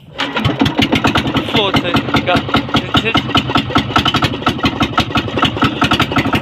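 A boat engine putters to life and runs with a rapid, rhythmic chugging beat, loud and close, with voices speaking over it.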